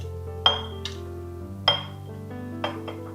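Pieces of banana stem, threads removed, drop into a dried glass bottle for a pickle, giving three short, bright clinks spaced about a second apart over a soft, steady musical backdrop.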